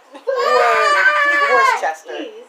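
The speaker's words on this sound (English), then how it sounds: "If you hear screaming in the background," A child screams in a long, high, wavering wail that rises and then breaks off, loud and near, followed by a short quieter cry.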